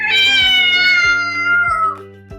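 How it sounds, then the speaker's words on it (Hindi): A cat gives a loud, close, drawn-out meow that slowly falls in pitch and fades, followed by a few faint soft knocks. "वो बार बार म्याऊं कर रही थी।"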